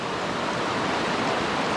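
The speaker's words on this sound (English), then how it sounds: "And this current's moving pretty well." Rushing water of a fast stream current at a backcountry trail crossing after heavy rain, a steady broadband wash heard close and continuous with no voices.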